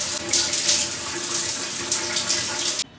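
Water runs steadily from a shower in a home bathroom, a loud, continuous hiss and splash that cuts off abruptly near the end.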